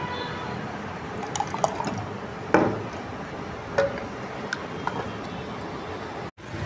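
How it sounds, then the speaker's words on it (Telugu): Ground tamarind and dal paste poured into a pot of drumstick sambar, a soft wet glugging and plopping with a few splashy thuds, close and steady with no speech. "ఇప్పుడు చింతపండు పప్పు ఉడకబెట్టి రుబ్బాను కదా, అది ఇది పోసేస్తున్నా"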